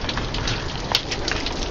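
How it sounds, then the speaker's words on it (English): Steady rain patters on a nearby surface on the John Muir Trail, a dense continuous hiss with scattered drip taps, no voices. "Raining."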